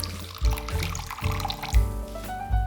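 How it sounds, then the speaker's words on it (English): Red wine vinegar poured from a bottle for a Greek salad dressing, a close liquid stream with several gurgling glugs and splashes over a few seconds. "For the dressing, add red wine vinegar,"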